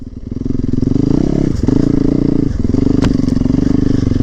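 Dirt bike revving loudly and steadily on an off-road ride, a close, continuous engine drone with brief dips in throttle around the middle.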